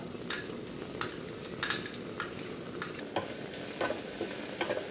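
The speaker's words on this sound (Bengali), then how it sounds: "কড়াইতে তেল দিব 3 টেবিল চামচ, পেঁয়াজ কুচি দিব হাফ কাপ" Half a cup of chopped onions sizzles in three tablespoons of hot oil in a kadai for chicken gravy, a steady close fry broken by regular scraping stirs about once a second.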